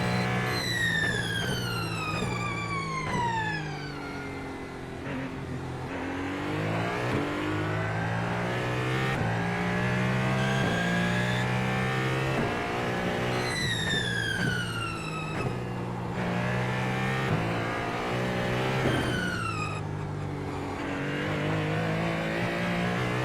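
A hypercar in a racing video game laps the Nürburgring, its engine screaming through repeated throttle stabs and gear changes, with pitch sweeping sharply up and falling back in long, loud, continuous waves.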